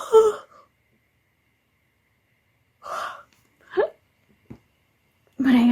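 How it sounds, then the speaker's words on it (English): A person with hiccups makes several short, sharp gulping catches separated by silent pauses, each one abrupt and close, with a brief burst of voice at the start and end. "But I gotta get rid of these hiccups"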